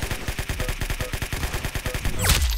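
Rapid automatic gunfire from the Roblox game Arsenal, a steady loud stream of close shots that ends in a sharper burst and whoosh near the finish.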